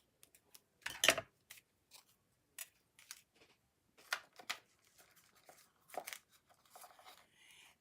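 Scissors trim paper for a handmade Stampin' Up greeting card in a series of short, quiet, separate snips and crinkles. One sharper cut stands out near the start, and the rest are spaced irregularly with no talking.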